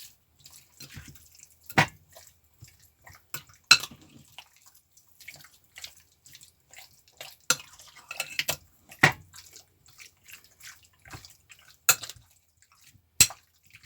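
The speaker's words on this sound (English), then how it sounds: "give it a bit of a stir to get it all nice and coated with the marinade." Beef jerky meat being stirred in marinade in a bowl gives soft, irregular wet squelches and sharp clicks, quiet and close, spaced unevenly over several seconds.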